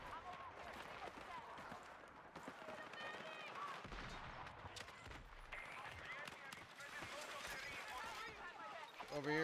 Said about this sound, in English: Over here shooting at the guy.